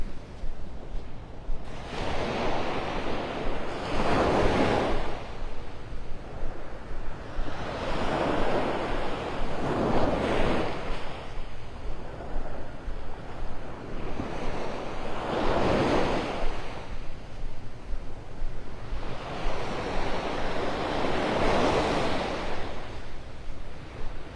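Small ocean waves breaking on the beach at Delnor-Wiggins in North Naples, Florida, four soft rolling surges washing in at even intervals over steady wind noise, with no voices.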